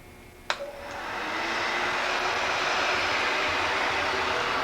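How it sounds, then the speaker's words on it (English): A heat gun blows hot air in a steady, loud rushing roar that starts after a click and holds on without a break, used to firm up a clay slab for a corner pot. "You may need to blow dry or use a heat gun on your slab to set it up sufficiently to join together"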